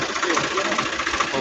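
A farm tractor engine runs steadily in a field during pigeon pea spraying work, a continuous broadband mechanical drone with no pauses, close and moderately loud.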